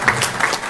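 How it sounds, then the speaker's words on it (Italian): Short burst of audience applause at a political debate in Bari between Andrea Caroppo and Michele Emiliano, fairly loud clapping from a hall crowd lasting under a second. "Si può applaudire, volendo."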